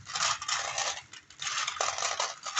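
Divination charms stirred by hand, a bright jingling clatter of small metal pieces that rises and falls in bursts with a short lull in the middle, close and alone.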